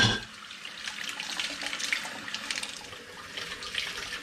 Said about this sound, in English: So now it's time to rinse them off.